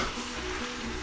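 Meat for lasagna sizzling over medium-high heat in a pan, a brief steady frying hiss close by with the soft motion of stirring.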